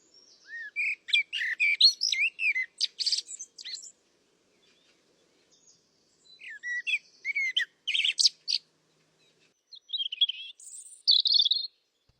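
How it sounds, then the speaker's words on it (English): A Eurasian blackbird sings in a park, rich fluty phrases delivered in separated bursts with quiet pauses between, clear and fairly close with no other sounds. "The blackbird is one of the finest singers in the UK, rich, fluty and unhurried, usually from the very top of a tree."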